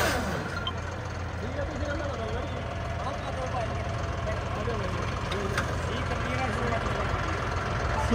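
A John Deere tractor engine idles with a steady low rumble throughout, close and continuous, while people talk over it.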